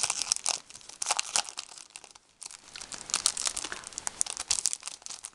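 Paper swap cards and envelopes are handled and opened, with close, crisp crinkling and tearing in irregular bursts and a brief pause partway through, no talking.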